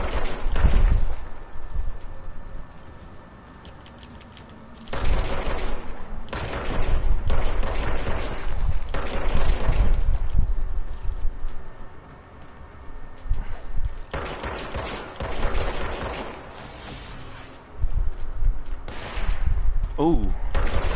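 Bursts of automatic gunfire from the video game Control come in several loud volleys separated by quieter gaps, with a voice talking over parts of it.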